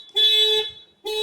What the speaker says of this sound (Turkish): Bir alarm çalacak bilginiz olsun.